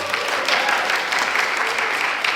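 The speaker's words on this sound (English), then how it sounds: "beautiful wife, Shan, former Miss Southern, y'all give her a round of applause" Steady clapping from a crowd fills the room, a dense, even wash of applause that holds at the same level throughout.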